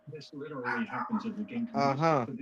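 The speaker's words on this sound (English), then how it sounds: "Oh, puppy's going nuts." A puppy lets out rapid, excited yips and whining barks close by, in quick bursts that rise in pitch toward the end.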